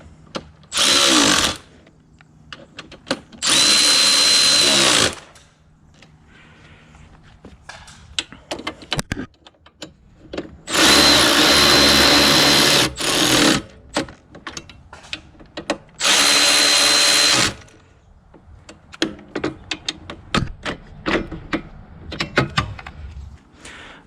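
A power tool drives pannier rack bolts on a Yamaha Tenere 700 with a 6mm Allen bit, in three loud close bursts of whirring lasting one to two seconds each, with quieter clicks and handling noise between them.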